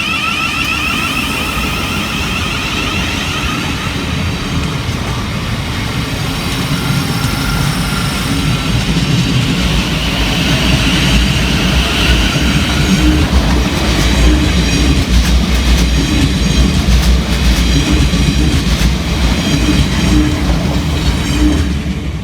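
A Southeastern passenger train pulls out of Waterloo East station in London, a loud, continuous rumble with rhythmic wheel clatter close by for over twenty seconds.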